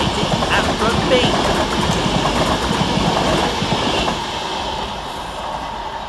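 A train rolls through Bescot Stadium station with a continuous rumbling clatter of wheels on rails that stays loud and close before easing slightly toward the end.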